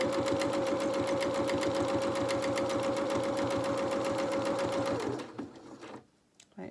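A sewing machine stitches forward and back to secure an edge on a toy rabbit, a fast steady mechanical chatter with a constant hum that runs loud for about five seconds, then stops abruptly.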